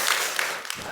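A church congregation at a Friday evening service claps together in a short, close burst of dense, even applause.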